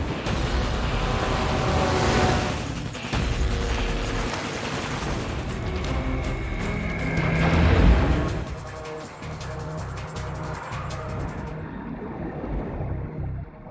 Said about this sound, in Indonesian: Bates pun memerintahkan anak buahnya untuk mengejar Jared menggunakan speedboat.